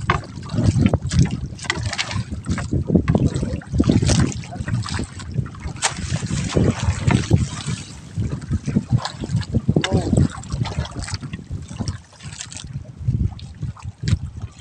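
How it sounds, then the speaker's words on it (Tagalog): Wind buffets the microphone over choppy water sounds at sea, with people talking and calling out throughout. "Mahangin sa maalon"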